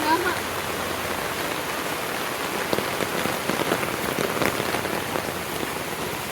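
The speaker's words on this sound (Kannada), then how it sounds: "ಸರಿಯಾಗ್ ಮಳೆ ಬರ್ತಾ ಇದೆ" Heavy rain pouring down in a village is a steady, close hiss of drops drumming on surfaces, dense and continuous with no pauses throughout.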